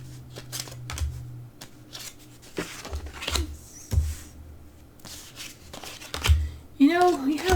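A deck of tarot cards is shuffled by hand in repeated soft riffling and sliding bursts, close and moderately quiet, with a voice speaking in between.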